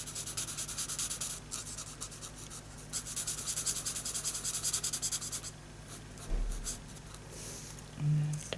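Alcohol marker nib rubbing and scratching across a stamped card, a steady close scratchy colouring sound in quick strokes with brief pauses.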